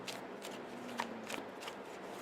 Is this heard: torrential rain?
no